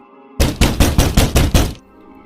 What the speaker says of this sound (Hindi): दरवाज़ा कोई खटखटा रहा था